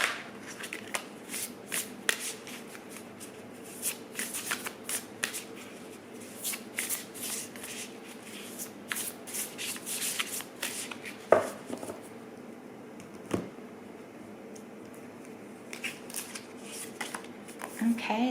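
Oracle cards are shuffled by hand for a reading, a run of crisp riffling and flicking bursts close up, with a person talking intermittently throughout.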